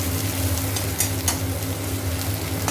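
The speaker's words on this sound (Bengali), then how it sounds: "তেল দিয়ে কালো জিরে ফোড়ন দিয়ে পেঁয়াজটা দিয়ে দিয়েছি, পেঁয়াজটা একটু ভাজা হবে" Sliced onions fry in oil tempered with black cumin seeds, giving a continuous close sizzle with a few faint stirring clicks.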